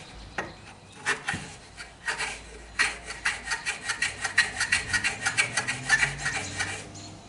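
A block plane scrapes across the edge of a scrap wood piece, starting with a few scattered strokes, then settling into a quick, even run of short rasping passes, close and fairly quiet.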